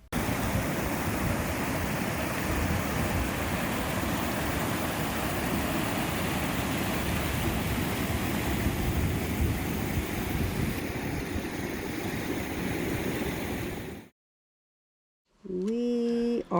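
A river flowing beside a campsite in Olympic National Park makes a loud, steady broadband rush for about fourteen seconds, then cuts to silence before a brief voice is heard.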